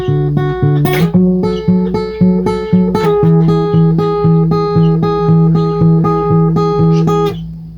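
Electric-sounding guitar plays the sliding riff of a song from Gotham Knights, a repeated rhythmic pattern of about eight slides up the neck, loud and close with no talking.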